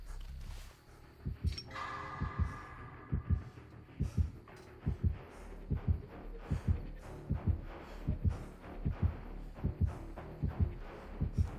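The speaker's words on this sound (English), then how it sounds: "Alpha, I hear a heartbeat." Steady, throbbing killer heartbeat from the Nurse in Dead by Daylight, a regular double-thump pulse repeating loudly through the whole stretch under faint game ambience.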